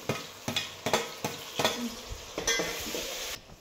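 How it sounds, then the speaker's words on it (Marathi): Tomatoes sizzle in hot oil in a pan while a spatula repeatedly taps and scrapes, producing a regular series of sharp clacks over a continuous close frying hiss. "आता टमाटर घेऊ तळून"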